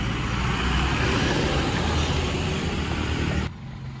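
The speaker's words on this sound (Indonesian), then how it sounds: "truk tangki semen Padang" Heavy traffic on a congested mountain road near Padang where a cement tanker truck is stuck, heard as a loud, steady engine rumble and road noise that holds for several seconds before dropping off abruptly near the end.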